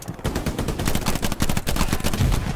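Dense gunfire fills a battlefield shooter video game, with rapid overlapping shots and loud bursts throughout; the headshot hit sound itself is not distinct within the barrage.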